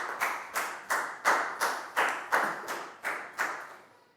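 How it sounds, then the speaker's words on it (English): A class claps in a steady, evenly spaced beat, about a dozen sharp, close claps in a row with no talking over them. "High five and a big round of applause for Platt"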